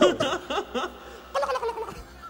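A human voice imitates a turkey's gobble in a few quick warbling bursts, close and fairly loud, with a pause between the calls.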